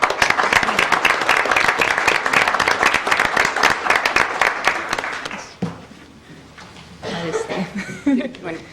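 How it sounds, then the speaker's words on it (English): A round of applause at a city council meeting, dense clapping from the room for about five seconds that stops abruptly, followed by coughs, chuckles and people talking. "I think another round of applause would be in order."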